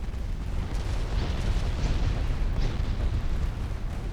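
Naval gunfire and shell hits during a warship battle in Ultimate Admiral Dreadnoughts, heard as a continuous dense rumble of distant booms and blasts that rolls on without a break.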